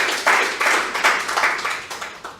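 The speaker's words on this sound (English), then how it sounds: "A big round of applause for Anthony." A studio audience gives a round of applause for a guest, with dense clapping rising in several short swells over about two seconds, close and lively, with no talk over it.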